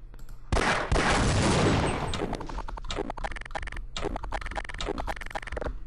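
Shotgun blasts in Half-Life: a loud, dense burst of gunfire for over a second, then a string of sharp repeated shots and clattering hits that continue steadily close up.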